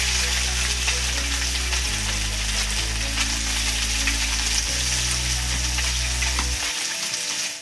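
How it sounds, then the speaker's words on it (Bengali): Small mourala fish frying in hot oil give a loud, steady, crackling sizzle that runs without a break for several seconds, over a low background hum, and cuts off abruptly at the end. "তেলের মধ্যে এই মাছগুলো এবার দিয়ে দিচ্ছি মৌরলা মাছ এগুলো টক করব তার জন্য একটু ভেজে নিচ্ছি"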